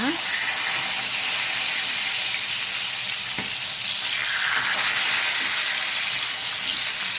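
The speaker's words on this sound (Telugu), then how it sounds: "బాగా ఫ్రై అవుతుంది కదా చూడండి మంచిగా ఫ్రై అవుతుంది" Fish fries in a pan, a loud continuous sizzle and bubbling spatter running throughout, with a voice faintly audible beneath it.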